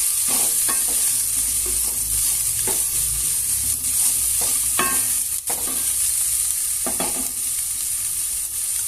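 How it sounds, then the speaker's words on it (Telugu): Cluster beans (goru chikkudu) curry cooking in a pan on a stove at low heat: a steady close sizzle with repeated spoon-stirring scrapes and taps throughout, no voices. "గోరుచిక్కుడుకాయలు మగ్గాలి. కాస్త సిమ్లో పెట్టుకోండి స్టవ్."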